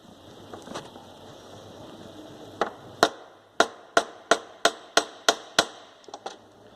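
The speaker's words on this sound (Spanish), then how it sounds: "y lo martillamos aquí" Hammer strikes on a rivet fastening a car's power window regulator cable in a workshop: about eight sharp, loud metallic blows in a steady rhythm, preceded by a few lighter taps, with no talking.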